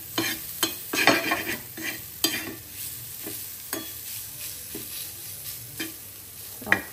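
A spoon stirs eggs with coriander in a frying pan on a gas stove, giving several distinct scraping strokes over a soft sizzle, close and alone.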